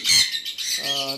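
Lovebirds letting out sharp, shrill squawks in quick bursts close by, with a harsher buzzy call at the end.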